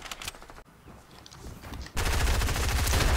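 Lever action sniper rifle shots in Fortnite, heard as sharp bursts of gunfire, a lull, then a dense, loud stretch of rapid shooting and battle noise.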